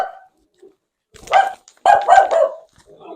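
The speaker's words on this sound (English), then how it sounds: "I gotta go stop him from barking." A pet dog named Angel barks loudly indoors, a few sharp close barks in two quick bursts separated by short pauses, with a faint whine at the start.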